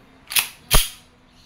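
Two sharp, loud cracks from a KWC M1911 CO2-powered airgun pistol firing 4.5mm steel BBs, roughly half a second apart, close up with no talk.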